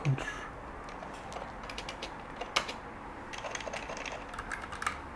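Key presses on a computer keyboard with cheap non-MX key switches, in scattered irregular clicks and clacks at close range, one sharper tap standing out midway, over a steady background hiss.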